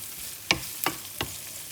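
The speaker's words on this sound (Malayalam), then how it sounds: "ഈ മസാല സവോളയും നമുക്കൊന്ന് വഴറ്റിയെടുക്കാം" Onion sautéing with pepper, coriander and turmeric powders in a pan for a Kerala fish molee, heard as a low sizzle broken by three brief spoon scrapes, close and without voices.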